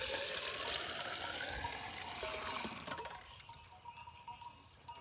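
Water gushes from a tap at a roadside ashram-like stop as it is collected, a steady rushing flow that shifts and thins partway through, with no talking.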